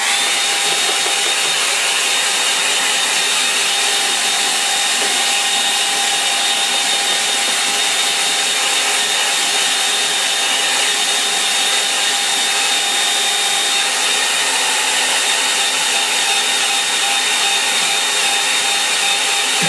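A hair dryer blows continuously at close range to dry a watercolour line-and-wash seascape painting, a steady loud airy roar with no pauses or talking.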